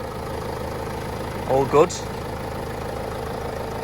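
A Vauxhall Vivaro 2.5 CDTI diesel engine idling after an oil service, a steady close rumble under a brief spoken comment.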